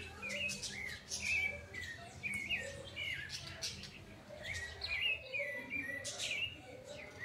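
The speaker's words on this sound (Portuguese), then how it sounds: "Canta, canta, sabiá!" A sabiá thrush sings outdoors, repeated short warbling and fluting phrases over a low background rumble, moderately near and fairly quiet, with no talk during the song.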